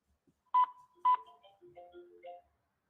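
Touch-tone dialing on a glitching phone line during a call-in show: two sharp, loud tone bursts a half second apart, then a run of softer, wavering electronic tones that fade out.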